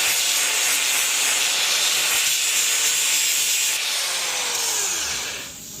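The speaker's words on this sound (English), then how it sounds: "I'm just going to use a flappy wheel" Flap wheel grinding and blending metal on a Corvette radiator relocation part, a steady loud hissing abrasive rush that holds throughout and tapers off at the end.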